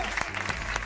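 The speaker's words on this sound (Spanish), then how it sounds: "Pon el aplauso para los chicos." Canned applause is played on an Argentine TV Pública afternoon show, a short burst of dense clapping heard on its own.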